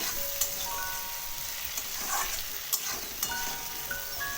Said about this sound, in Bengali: সবজিগুলো হালকা ভাজা হয়ে যায়